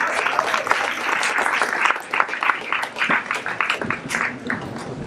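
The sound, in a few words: audience applause at panel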